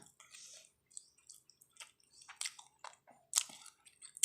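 Close, quiet chewing of a meal of hed phor mushroom curry and fried mackerel, with soft wet bites and smacking in an irregular rhythm, no talk.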